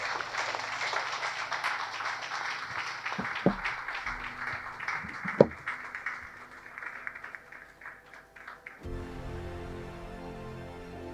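Applause at a Guru Purnima lecture gathering in Accra greets a speaker coming to the podium, steady clapping from a crowd with a few louder individual claps, before it shifts into other indoor sound.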